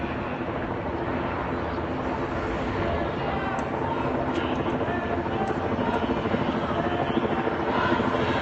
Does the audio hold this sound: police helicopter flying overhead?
yes